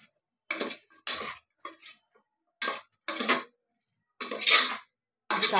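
A spoon scrapes and clinks against a pressure cooker pot while vegetable biryani masala is stirred, in short separated bursts of metallic stirring with silent gaps between them, close and clear.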